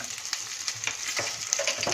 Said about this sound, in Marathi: 2-3 मिनिटं तेलात भेंडी आणि कांदा परतूया